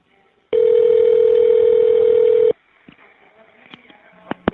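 Evercom jail call system placing an outgoing call: a loud, steady single tone lasting about two seconds cuts off sharply, followed by faint line noise and a few soft clicks.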